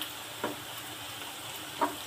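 Onions frying in oil until browned and dry, a steady soft sizzle at moderate distance with a couple of faint stirring clicks, no voices.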